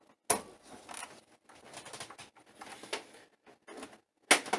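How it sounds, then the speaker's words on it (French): Keyboard cable being unplugged from a Tandy 1000 SX computer, giving close mechanical clatter and scraping with a sharp click at the start and another at the end, quiet handling noise between, no speech. "On débranche le clavier."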